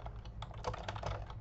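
Fingers tap quickly on a computer keyboard, a dense run of soft, close keystrokes over about a second and a half with no talking.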